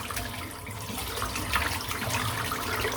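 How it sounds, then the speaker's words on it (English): A shaving brush being rinsed under running water at a sink, a steady close splashing rush that swells slightly toward the end, with no talking. "rinse out the brush now"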